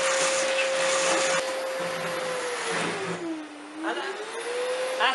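A laser cutter with an attached extraction hose runs with a loud, steady whooshing roar and a sustained whine that sags in pitch as the machine begins shutting off, then rises again.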